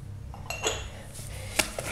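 A metal spoon and whisk clink against a bowl as a teaspoon of freeze-dried coffee goes in for a mocha entremet, a few sharp close taps and scrapes spread over a quiet kitchen background.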